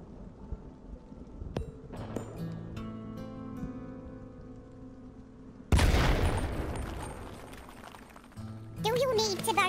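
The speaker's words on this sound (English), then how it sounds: "Grenade." A grenade goes off in the Worms W.M.D artillery game with a sudden loud broadband blast partway through, followed by a decaying rumble, while cartoonish voices and game effects chatter before and after.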